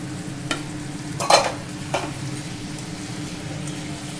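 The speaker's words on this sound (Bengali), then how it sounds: "দিয়ে একটু ভালো করে নাড়াচাড়া করব।" A spoon stirs paneer in a frying pan, a few distinct scraping strokes over a constant low sizzle, close and moderately loud.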